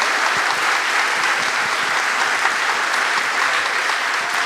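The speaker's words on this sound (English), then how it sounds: "So please give them a huge round of applause." Sustained applause from a political event audience, steady clapping filling the room throughout without pause, with no speech over it.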